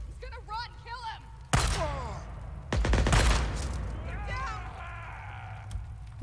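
Bursts of automatic weapons fire from a hostile group in Days Gone: sharp, loud volleys and thuds break out under frantic shouting and talk from the player.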